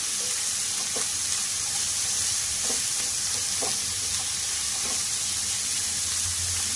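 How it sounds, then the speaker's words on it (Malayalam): Onions and ginger-garlic paste being stirred in a frying pan for chicken biryani, a steady loud sizzle with scattered scraping strokes of the spoon throughout. "ഇനി ഇഞ്ചി വെളുത്തുള്ളി പേസ്റ്റ് ചേർത്ത് കൊടുക്കാവേ. നമുക്ക് നന്നായിട്ടൊന്ന് മിക്സ് ആക്കാം."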